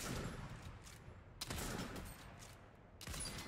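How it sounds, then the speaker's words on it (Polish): Gunfire in a shooting video game, heard as a glitch lets shots pass through walls: a couple of sharp, fairly quiet bursts of shots break out between stretches of low game noise, with no one talking. "Jeszcze jeden strzał pójdzie"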